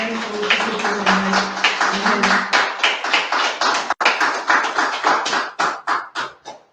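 A church congregation clapping in a steady rhythmic beat, many hands together in a service, with singing voices at the start before the claps carry on alone and taper off.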